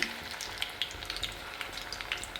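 Chickpea kebab pieces frying in hot oil, a constant close sizzle with sharp popping crackles scattered throughout, heard alone.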